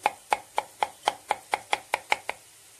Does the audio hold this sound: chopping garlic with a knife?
yes